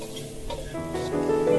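Bitter gourd is stir-fried in a wok with garlic salt and chicken powder, giving a brief, loud, rising sizzle with scraping stirring.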